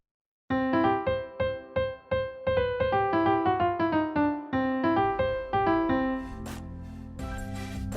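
A melody spanning about an octave, played as clear, separately struck notes on a keyboard-like instrument, each decaying quickly in a steady rhythm before the last tones ring out longer.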